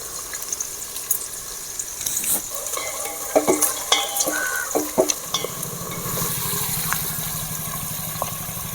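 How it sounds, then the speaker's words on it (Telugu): Onion pieces fry in oil in a pan while crab biryani is being made, sizzling and hissing steadily as a spoon stirs and scrapes them with close, uneven clinks and scrapes. "ముందుగా తరుగు పెట్టుకునే ఎర్రగడ్డ ముక్కలు అయితే వేస్తున్నా"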